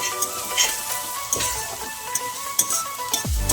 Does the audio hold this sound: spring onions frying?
yes